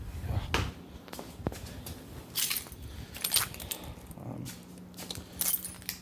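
Keys jangling in a garage during an oil change on a 1999 Chevrolet Blazer, several brief metallic rattles and clinks spread over a few seconds, fairly quiet against a low background hum.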